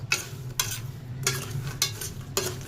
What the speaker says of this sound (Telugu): ఇలా ఆరారుగా కలుపుతూ ఉండడం వల్ల పల్లీలు అనేవి అన్నీ ఈవెన్గా అయితే వేగుతూ ఉంటాయండి.